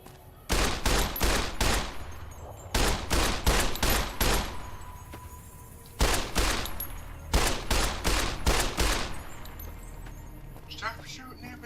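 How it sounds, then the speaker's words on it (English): Gunfire in Fallout: New Vegas, loud rapid bursts of shots fired in tight clusters with brief pauses between volleys, then quieter clinking near the end. "Stop shooting everything!"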